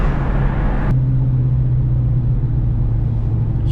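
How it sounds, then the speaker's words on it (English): A roughly 500 hp Terminator Cobra Mustang's engine roars loudly up close under hard acceleration in first gear, then settles into a steady, deep droning rumble after a sharp shift in tone. "I love when you lay on first and it just rips the tire off"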